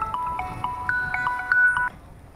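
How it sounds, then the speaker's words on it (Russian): A mobile phone plays a bright melodic ringtone of quick repeating notes, moderately loud over street ambience while walking through central Kyiv, with no one speaking. "тут у меня телефон звонит"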